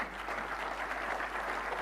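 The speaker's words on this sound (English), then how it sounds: "Can we have a big round of applause for Professor David Foskett?" An audience at a young chef competition's opening ceremony applauds, a brief, even wash of clapping with a low steady hum beneath it.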